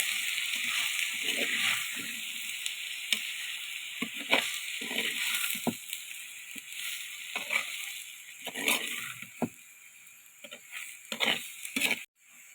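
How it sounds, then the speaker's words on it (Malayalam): Masala is stirred into fish in a pan, with soft wet scraping, sloshing and a light sizzle running steadily at low volume. "മസാല നല്ല കൂടെ ഒന്ന് മിക്സ് ആക്കി എടുക്കാം"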